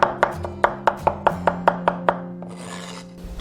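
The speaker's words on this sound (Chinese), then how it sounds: "然后切成蒜末。" A knife chops garlic into mince on a board, about a dozen crisp, evenly spaced knocks close up, then a brief scraping rustle as the pile is gathered, with no talk.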